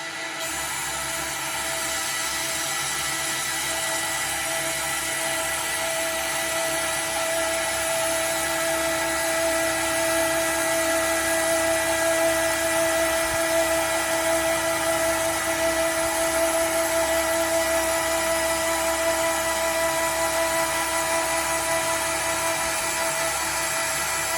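A CNC router cutting at its normal feed rate gives a steady, continuous high-pitched whine that holds evenly and fairly loud for the whole stretch, with no talking.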